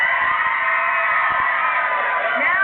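A television studio audience screams and cheers in one continuous loud roar as the Duran Duran front man is about to join a daytime talk show.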